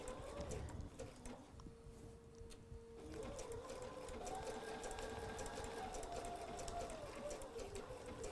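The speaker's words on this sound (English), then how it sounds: "Now we're just going to keep on stitching all the way down." Home sewing machine stitching fabric appliqué along the edge of a piece, a steady mechanical whir with fine rapid needle ticking, a brief pause early on, then continuous running at close range.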